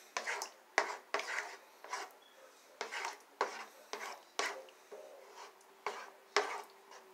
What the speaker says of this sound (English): I'm going to mix it all together